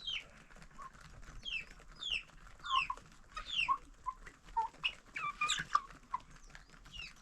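Chickens let out to forage at a hillside kharka cluck and chirp in short, quiet bursts, with rising calls scattered across a few seconds and no talking.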